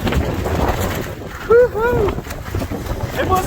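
Cold wind gusts across the icy Hudson beside an Ericson 38-200 sailboat, a steady rough rush buffeting the microphone with a short voiced exclamation midway.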